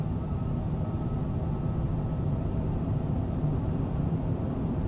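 A Cessna CJ3+ business jet rolling down the runway for takeoff in a flight simulator, a steady loud broadband engine roar with no speech.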